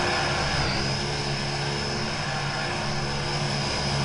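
A Thai Airways airliner flying in the video game BeamNG.drive gives a steady, loud engine drone with a constant high whine running through the whole stretch, and no talking.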